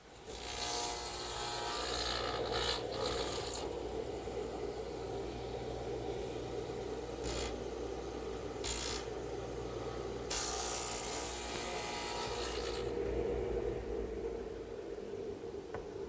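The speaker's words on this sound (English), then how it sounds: "Cut off the corners with my saw" A hand saw cuts off the corners of a redwood workbench frame, giving loud, close, rasping strokes in a steady back-and-forth rhythm, with short pauses and a few sharper bursts, and no talking.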